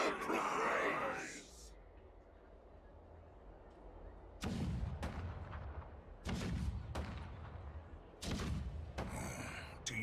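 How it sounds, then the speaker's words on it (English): Cannons rumble in the video game Honkai: Star Rail as three or four heavy booming volleys, spaced a couple of seconds apart, that follow a brief stretch of speech and quiet. "The rumble of the cannons."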